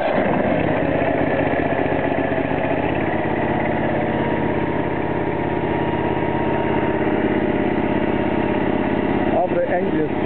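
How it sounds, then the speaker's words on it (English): A small Grasshopper 614/616 lawn mower engine runs at a loud, steady idle after starting, a continuous buzzing drone that stays even to the end, with a brief clatter near the close. "After the engine starts, you can unchoke the engine in the one stage."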